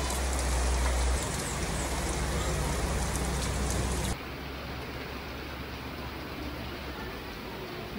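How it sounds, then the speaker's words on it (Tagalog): Rain pours steadily onto garden plants outdoors, a dense, even hiss of drops that drops slightly in level partway through and continues without any voices. "Pero nag-ulan na siya."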